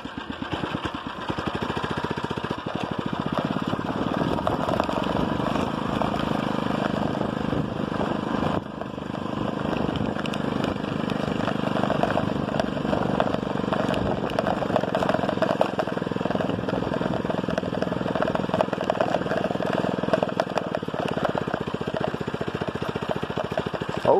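A 79cc Predator engine on a friction-drive motorized bike buzzes steadily and close at mid pitch, droning on without a break for the whole stretch with no talk over it.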